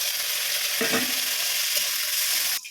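Washed, broken coconut fries in a pan for a village-style coconut chutney, with a steady, loud, hissing sizzle throughout and a brief stirring clatter near the start.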